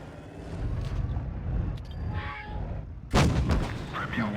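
A tank cannon fires in World of Tanks Blitz while an IS-2Sh battles, one sharp loud boom near the end after a rumbling engine and wind-like background.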